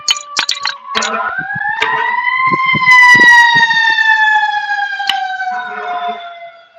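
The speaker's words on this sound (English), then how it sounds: "There's an ambulance, a firefighter." An emergency vehicle siren, ambulance or fire engine, wails loud and close, its tone sliding up and holding in a long sustained rise before falling away, with short bursts of talk at the start and end.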